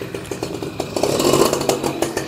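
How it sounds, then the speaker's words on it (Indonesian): A two-stroke motorcycle engine idles just after a kickstart, a close, steady, buzzing putter with a fast, even rhythm and no talk. "2 tak yang nggak berisik ya, ini contohnya"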